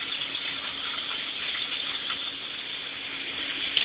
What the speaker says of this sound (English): I just kicked on the pump and you can see how much more bubbles there are here.